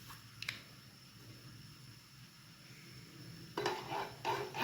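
Spices (salt, black pepper and chicken powder) being stirred into chicken in a pan: soft, faint scraping at first, then a few louder clattering, scraping strokes near the end.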